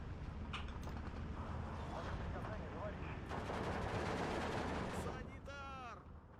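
Steel Division 2 battle with mortar fire and gunfire: a dense, continuous rumble of shots and blasts with bursts of rapid fire and a few sharper cracks near the end.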